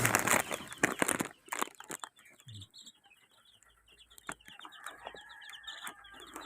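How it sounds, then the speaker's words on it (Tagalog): Ten black chickens cluck softly nearby after a burst of rustling, with faint chirps in the background. "yung mga itim na manok"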